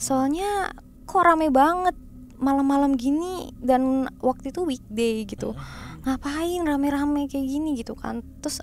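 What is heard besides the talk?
No everyday noises stand out.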